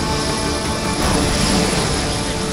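Indian Navy Sea King 42C helicopter during a sea rescue, a loud steady rotor and engine roar filling the whole clip with no speech.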